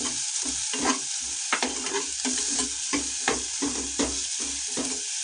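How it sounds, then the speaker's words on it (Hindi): Chopped onions fry for kala chana soup, a steady loud sizzle in a hot pan broken by repeated scraping stirs of a spoon, heard alone up close. "ज़्यादा नहीं भूनूंगी प्याज को और साथ ही मैं ये अदरक डाल दूंगी"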